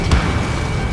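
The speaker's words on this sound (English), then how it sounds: "The missile hit the supply ship dead on. Did you see that explosion?" A missile explosion hits a supply ship in Ace Combat 7. A single short, deep boom lands near the start, then gives way to a steady, loud roar that fills the rest of the moment.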